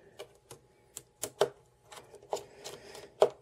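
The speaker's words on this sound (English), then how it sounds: "I can just take out these three screws right here" Screws are taken out of a computer LCD monitor, a run of small metallic clicks and ticks from the screwdriver, irregular and close, some sharper than others.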